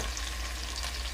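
Chopped onion dropped into hot oil with cumin seeds, a continuous close sizzle of frying that holds steady throughout with no voices.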